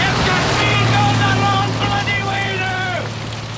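Rain falls as a radio drama sound effect, a dense steady hiss of heavy rain with a passing car's swish of surface water, continuous throughout.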